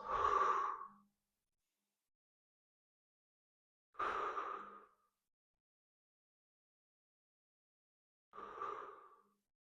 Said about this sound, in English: I'm going to take 3 big deep breaths.